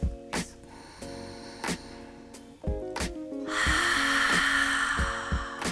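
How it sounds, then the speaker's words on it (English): Deep ujjayi ocean breathing, with slow inhales through the nose and a long, airy exhale through the mouth, close and clear over soft background music. "take a very deep inhale through your nose and a deep exhale"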